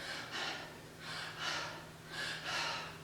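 A person demonstrates anxious, shallow panting breaths, about six quick airy inhales and exhales in a steady rhythm, close and fairly soft, with no talking.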